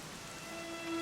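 Steady rain falls in the video game Dragon Quest XI, a soft, even patter with a faint sustained tone behind it, heard alone.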